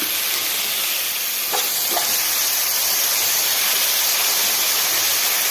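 Beans and long beans sautéing for a vegetable curry give a steady, close sizzle and hiss throughout, with two brief stirring clinks near the middle and no talking.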